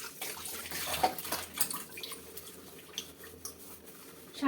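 Water splashes and trickles unevenly as things are washed one by one, with soft slaps and drips at close range and no voices.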